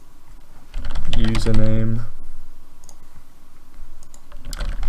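Clicky typing on a computer keyboard during a C# programming session, a quick burst of keystrokes close to the microphone with someone talking over and around it.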